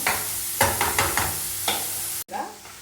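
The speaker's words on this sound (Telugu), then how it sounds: "ఇప్పుడైతే నేను ఆనియన్ వేసేసి ఒకసారి ఇలా కలిపేస్తున్నాను" Home-chopped onions are stirred in a hot pan. A handful of distinct scraping strokes sound over a steady sizzle, with a brief clack near the end.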